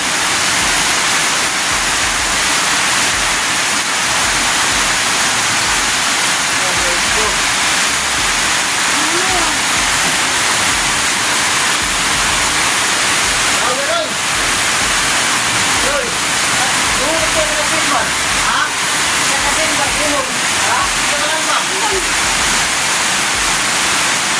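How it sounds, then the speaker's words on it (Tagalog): Heavy rain pours steadily while water floods into a house, a loud constant roaring wash like a waterfall that lasts throughout, with faint voices now and then beneath it. "Malakas ang ulan."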